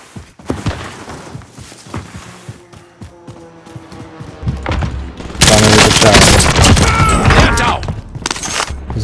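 Sniper and other gunfire in a video game, starting sparse with scattered thumps and shots, then a loud, dense burst of rapid fire and blasts that dominates the second half, with talk in between.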